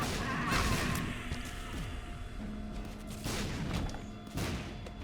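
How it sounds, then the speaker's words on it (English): Star Wars style bomb explosions in a video game, a run of dull booms and crashes under music and steady game noise, moderately loud throughout. "Star Wars bombs"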